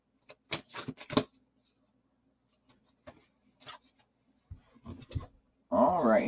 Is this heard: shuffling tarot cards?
yes